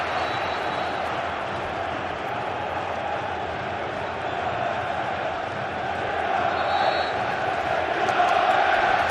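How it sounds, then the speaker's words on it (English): A pumped-up Tottenham Hotspur football crowd at Wembley Stadium during a Premier League match against Arsenal, a steady dense roar of many voices filling the stands, swelling slightly louder toward the end, with no clear single voices standing out. "early Arsenal possession is disdainfully treated by a pumped-up Spurs crowd"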